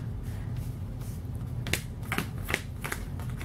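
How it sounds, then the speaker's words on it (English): A deck of Pokemon trading cards being shuffled by hand, giving a run of crisp, close riffling snaps that come irregularly over a steady low background hum, with no voices. "So I'm going to shuffle up my deck."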